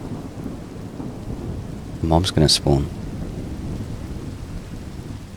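Rolling thunder bursts and steady rain in a video game storm with an immersive directional thunder mod, loud cracks clustered mid-clip over continuous rain hiss, with a brief spoken line nearby.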